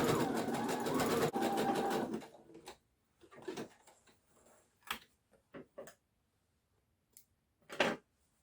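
A sewing machine runs a zigzag stitch along the seam allowance edges of a knit tee, with a loud steady burst of stitching for about two seconds, then quiet handling clicks and short taps as the fabric is moved.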